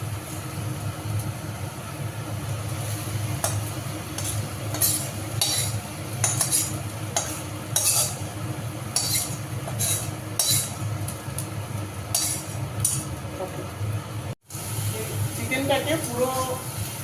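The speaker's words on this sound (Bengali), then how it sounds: "চিকেনটাকে পুরো একদম ভালোভাবে এই চাল ভাজার সাথে মেখে নিতে হবে, একটু কষিয়ে নিতে হবে" Chicken is stirred into fried rice in a cooking pot, with a spoon scraping and clinking against the pot in repeated strokes while a person talks throughout.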